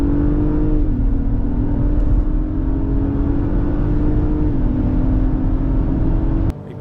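A 2024 Acura MDX Type S engine holds a loud, steady high-rev drone. Its pitch dips slightly twice, then the sound cuts off sharply near the end, leaving a quieter hum.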